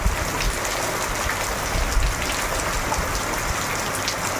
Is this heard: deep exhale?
no